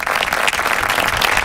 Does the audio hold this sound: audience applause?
yes